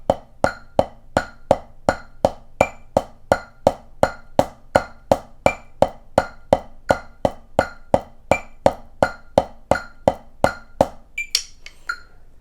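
A drum kit plays a slow, steady 8th-note groove in 4/4, evenly spaced hits repeating for about eleven seconds, ending with a brief cymbal crash.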